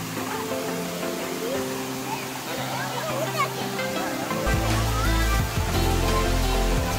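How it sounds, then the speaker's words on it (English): The waterfall at Kabbinale Falls near Ajekar rushes as a steady, loud wash of falling water, with a deeper roar swelling in the last few seconds as voices talk over it. "Such a nice waterfall where you can get into the water."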